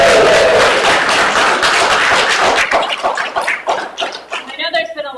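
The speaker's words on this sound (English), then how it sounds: "if we could hold your applause" An audience at a city council meeting applauds loudly, dense clapping that thins out toward the end with scattered claps, while talk and a brief voice come through underneath.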